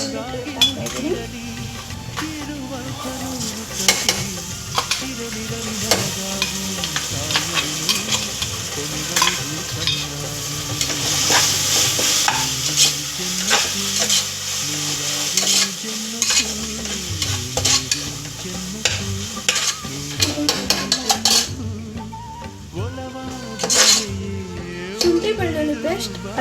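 Ginger garlic paste fries and is stirred in a pan for green chicken biryani, with a continuous sizzle and repeated scraping clinks of a spoon against the pan, fairly close and steady throughout.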